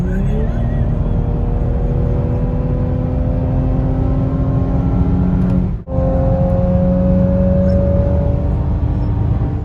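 Steady broadband road and engine drone from a car cruising at speed on a German autobahn, continuous and loud with slowly shifting tonal whine and a brief dip midway, with no talk.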